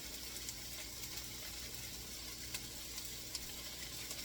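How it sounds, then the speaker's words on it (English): Salmon with rosemary and salt frying in a pan while being stirred: a steady, quiet sizzle with faint scraping and occasional small pops, no talk over it. "And give it a stir"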